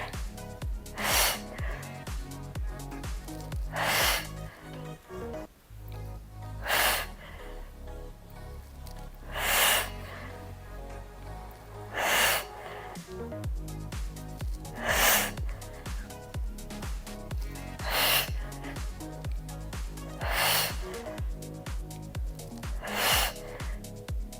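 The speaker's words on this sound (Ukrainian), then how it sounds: "Видих, вдих. Видих, вдих." Sharp, rhythmic breaths during a workout exercise, forceful nasal exhales and inhales repeating about every three seconds, close and clear over background music.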